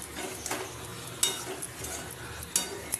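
A spoon stirs fish roe curry frying in a pan: a low steady sizzle with a few sharp metallic clinks of utensil against the pan, close and alone without talk.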